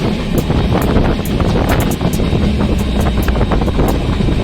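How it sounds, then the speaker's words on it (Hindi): Cool wind rushing past outside a moving train in the early morning, a steady loud broadband roar with gusty buffeting, no talk. "ठंडी ठंडी हवा चल रही है बढ़िया।"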